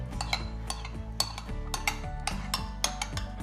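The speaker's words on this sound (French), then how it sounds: "Donc là, on remue bien." A spoon stirring a raspberry and olive oil mixture in a bowl, producing steady rhythmic scraping and clinking strokes at moderate volume, with no talk.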